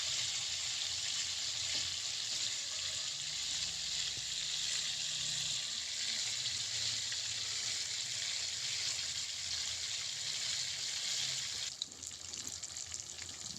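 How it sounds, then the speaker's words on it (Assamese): Chanda fish frying slowly in plenty of oil, a steady close sizzle that carries on evenly without a break, with a faint shift in the bubbling near the end. "মাছ ধুনীয়াকৈ লাহে লাহে ফ্ৰাই হৈ আছে।"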